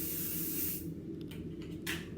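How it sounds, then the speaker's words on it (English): A steady dry wax hair spray hisses continuously for most of the clip, then gives way to a few short, softer bursts near the end. "I'm going to put my dry wax spray in, spraying that all over"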